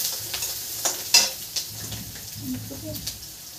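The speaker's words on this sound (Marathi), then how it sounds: "कांदा लसूण मस्त फ्राय हो द्यावा।" Onion and crushed garlic fry in a pan for a lady finger dish. A gentle sizzle runs under occasional utensil clinks and stirring scrapes, and a low voice murmurs briefly near the end.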